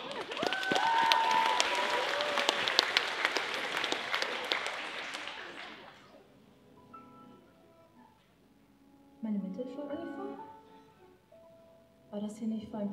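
Audience applause at a cosplay contest: a loud burst of crowd clapping with a voice over it, fading after about six seconds into music and speech.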